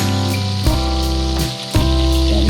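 Fish liver frying hard in a hot pan, a loud steady sizzle with crackling bursts throughout and no voices.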